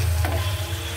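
Food being sautéed and flipped in a pan during home cooking, a brief close sizzling stir with a short scraping clatter over a steady low hum.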